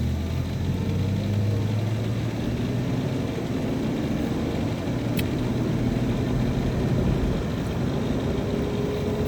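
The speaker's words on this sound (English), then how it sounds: "Now we're driving." A living-in-a-van camper pulls away from a stoplight, its engine droning steadily with low rumble and road noise throughout, loud and continuous with no talking.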